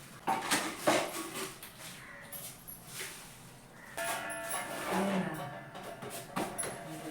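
Dishes and pots being washed at a home kitchen sink, with scattered clinks and clatters of crockery and utensils over running activity, moderately close, with some background voices.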